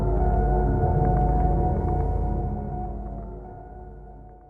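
An eerie, droning noise from the Darkest Dungeon main menu, a dark gothic video game: a dense, low, sustained tone with a sharp onset that stays loud for a moment, then slowly fades away, heard alone.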